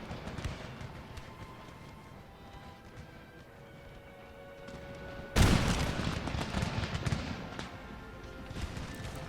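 Musket volleys in Empire: Total War's Battle of Naples, a loud sudden crash of massed gunfire erupting after a quieter stretch of distant battlefield rumble and scattered shots, then trailing into continued crackling fire.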